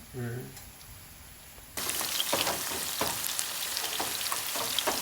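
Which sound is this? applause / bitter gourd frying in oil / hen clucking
bitter gourd frying in oil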